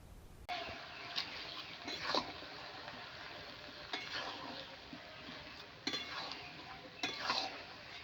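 Jujube plums being stirred in sugarcane jaggery for a village-style pickle, with a low background sizzle and several distinct scrapes and clinks of a utensil against the pan, spaced irregularly.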